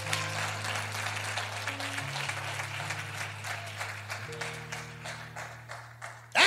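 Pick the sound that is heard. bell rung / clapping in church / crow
clapping in church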